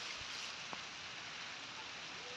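Rain falls steadily onto canal water beside a cotton field, a dense, even hiss of drops throughout with one brief sharper patter near the start.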